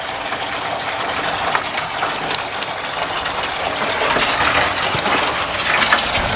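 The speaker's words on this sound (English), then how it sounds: "Turn on the pump." A pump filling a duck pond, with steady, loud, close water gushing and splashing that runs continuously and swells slightly toward the end.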